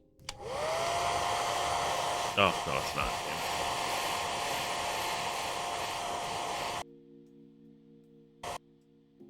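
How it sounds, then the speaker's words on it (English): A hair dryer roars with steady broadband noise for several seconds, briefly interrupted by a short spoken remark, then cuts off abruptly to near silence. "I'm gonna use the hair dryer for a couple seconds."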